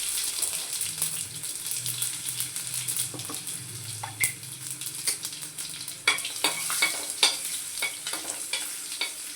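Garlic frying in hot oil with asafoetida, cumin and mustard seeds for a cauliflower dish, a close, steady crackling sizzle with sharp spatula clinks and scrapes against the pan, no voices.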